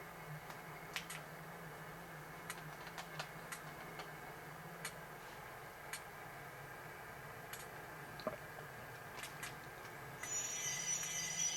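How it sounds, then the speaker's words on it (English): An HO scale Rapido EMD GP40 slug unit with a DCC sound decoder gives quiet irregular ticks and clicks, then a thin, high, steady brake squeal near the end. "Get your brake squeal there."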